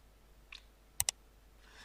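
Enter key pressed on a computer keyboard during drafting work: two quick, crisp clicks close together, with a softer keystroke before and faint clatter after, in a quiet room.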